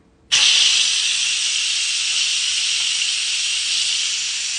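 An Instant Pot switched to venting releases pressurized steam from its valve in a sudden loud, steady hiss that starts abruptly and continues unbroken, slowly easing off slightly toward the end.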